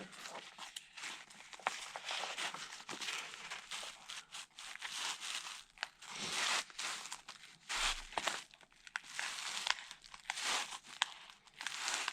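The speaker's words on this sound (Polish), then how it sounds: "Nacinam, żeby się wbić nożyczkami." Scissors cutting through a sheet of vapor barrier plastic foil for sealing a ventilation pass-through in a suspended ceiling, with continuous close crinkling and crunching snips, no talk.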